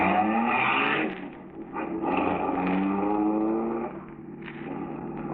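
Radio drama sound effect of a stolen car starting up and driving past: a steady, loud engine drone with shifting tones and a brief dip midway, no voices over it.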